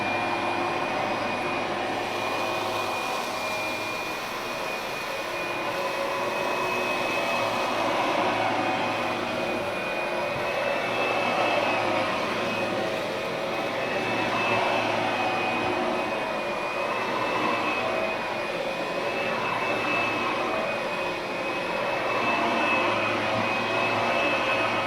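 An Oreck Magnesium RS lightweight upright vacuum cleaner runs continuously on its high setting, a loud, steady motor whine with a piercing high tone that holds through the whole stretch with slight wavering.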